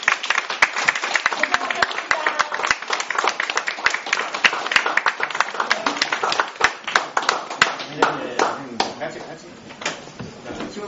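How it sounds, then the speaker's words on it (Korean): Indoor audience at a release report meeting claps together in a sustained burst of applause, loud and dense, easing off near the end with voices mixed in. "박수를 보내주시기 바랍니다"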